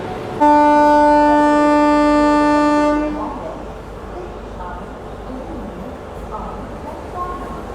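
A WAP7 electric locomotive hauling the 12025 Shatabdi Express sounds one long, loud, steady horn blast as it departs platform 6 at Pune Junction, followed by a lower rolling rumble of the moving train.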